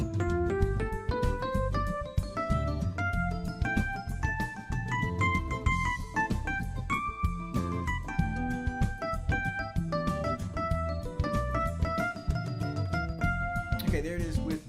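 Piano plays a Phrygian minor scale built with an F natural, notes climbing and falling in a steady, flowing run with chordal support underneath, close and clear with no talking.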